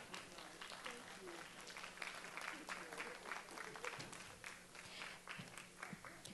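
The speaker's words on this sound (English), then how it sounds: "May we please give her a standing ovation, teachers. A warm, warm round of applause." Teachers at an educators summit applaud in a standing ovation, a sustained wash of clapping with a low hum underneath and voices surfacing briefly in the crowd.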